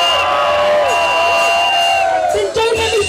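A large crowd at a Chicane live dance show cheers and whoops loudly and continuously, shrill voices and shouts rising over a sustained roar of the audience.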